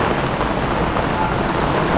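Heavy rain pours down during a typhoon at a housing construction site, a dense, loud, steady hiss with no breaks.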